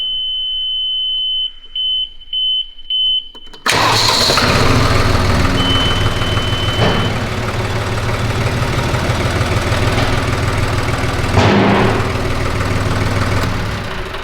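A warmed-up tractor engine cranks and catches, then settles into a loud, steady running rumble. A few short electronic beeps sound just before it fires.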